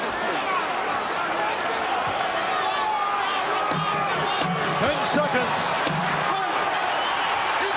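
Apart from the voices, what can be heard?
boxing crowd cheering at the convention hall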